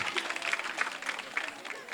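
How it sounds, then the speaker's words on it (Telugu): A burst of crowd applause at a Christian choir competition results event, many hands clapping at once in a lively, sustained patter that tapers slightly toward the end. "ఒకసారి మీకే మీరు గట్టిగా చప్పట్లు కొట్టుకుంటారా?"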